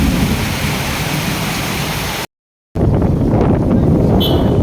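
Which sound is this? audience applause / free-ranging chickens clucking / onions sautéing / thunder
thunder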